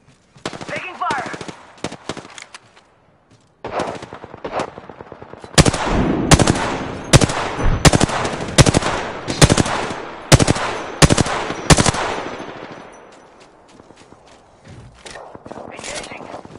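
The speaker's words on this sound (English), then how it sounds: "They're shooting at me." Automatic gunfire in Apex Legends: sharp bursts and single shots, loudest in a rapid rhythmic volley mid-way, with quieter gaps between and game voices speaking at times.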